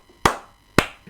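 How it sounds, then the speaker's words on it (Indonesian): Two sharp, close hand claps ring out about half a second apart, each crisp and loud with a short decaying tail, against an otherwise quiet background. "Mengapa Bang kok tepuk tangan seperti itu?"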